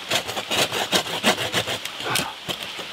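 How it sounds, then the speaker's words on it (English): Bow saw cutting through wood using the gypsy sawing technique, a steady run of rasping strokes, close and fairly loud, with no talking. "Now that is pretty easy compared to normal sawing."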